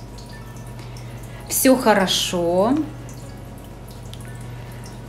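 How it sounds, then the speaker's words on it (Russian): A small handmade indoor waterfall trickles steadily in a home greenhouse, a soft continuous splashing with faint drips throughout. Someone speaks briefly over it partway through. "у меня за этот месяц появился водопадик, который я сделала своими руками"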